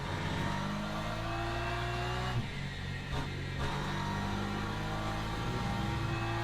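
A race car engine in the sim racing game Le Mans Ultimate drones steadily and loud, its pitch rising through the gears with brief dips at shifts, while another car's engine blends in nearby.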